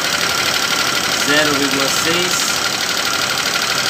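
The 2012 NXR Bros 150 ES motorcycle engine runs warm on gasoline in a steady, close, even idle, with someone speaking briefly over the engine.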